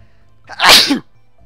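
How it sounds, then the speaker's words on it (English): A single sharp sneeze bursts out loud and close, about half a second long, rising quickly and cutting off, with near-silence before and after. "no I sneezed"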